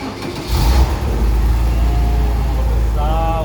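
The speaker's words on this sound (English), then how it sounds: "That's air cool sound for you." Air-cooled flat-six of a Porsche 993 revs up loudly from close by, then settles into a deep steady drone, with a brief rising whine near the end; no talk over it.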